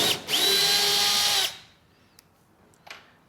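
Power drill backing screws out of a cured, glued wooden seat-frame joint: one loud, steady whine lasting over a second that winds down, followed by a couple of faint clicks, with no talking.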